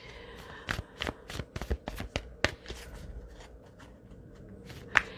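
An oracle card deck shuffled by hand to draw a card, producing a quick run of crisp, close papery flicks and snaps, fairly quiet and irregular, with no voice.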